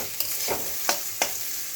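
Finely cut carrots and beans sizzle gently in a pan while a spoon scrapes and stirs them in three or four distinct strokes over the hiss.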